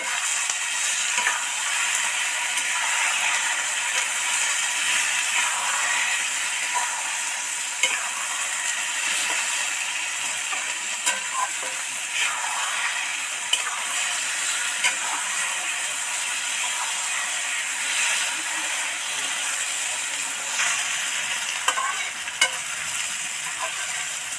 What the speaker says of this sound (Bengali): এবার নেড়ে চেড়ে ভালো করে মিশিয়ে দেবো